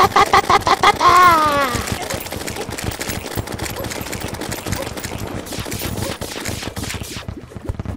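A gun in the video game Terraria fires meteor bullets in rapid bursts, a dense rattle of shots that opens with warbling, rising electronic tones and keeps firing for several seconds.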